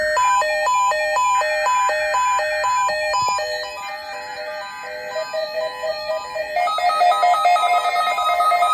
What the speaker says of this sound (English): The preceding signal was a test of the NOAA radio all-hazard station KEC85 public warning system.